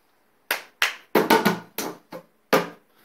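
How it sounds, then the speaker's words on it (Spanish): Sharp hand claps and taps on a plastic cup beat out a short rhythm, about eight crisp hits in an uneven pattern with pauses between them, close and clear with no talking. "vamos a utilizar un vaso de plástico y vamos a utilizar un lugar donde se pueda escuchar cuando golpeemos con las palmas"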